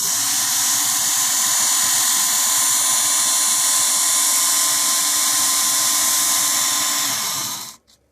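A WorkSharp KO electric knife sharpener whines at a steady high pitch, loud and close, running continuously before cutting off abruptly near the end.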